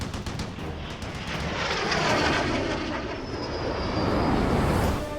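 An F-86 jet aircraft with a General Electric J-47 turbojet engine roars past, its broad, rushing engine noise swelling and holding loud with a faint high whine overhead, and no voices.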